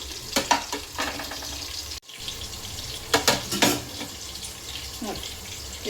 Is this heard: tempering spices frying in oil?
yes